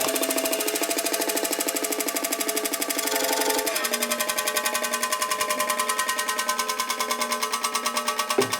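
A grinder works on the rocker arm of a 1950 Harley-Davidson Panhead during head assembly and high-lift cam setup, a loud steady buzzing drone with a rapid mechanical chatter that runs nonstop and close.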